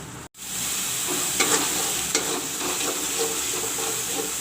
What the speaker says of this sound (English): I will let all this fry a little bit.